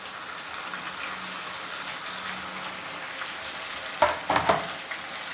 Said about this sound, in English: Now we've added the chopped onions and we will fry the onions.